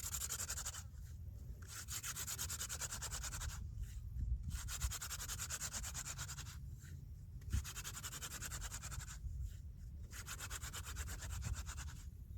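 A wooden hand drill spindle grinds against a tough wooden fireboard dusted with sand, making a steady, near, rasping rub in repeated back-and-forth strokes with short pauses between them.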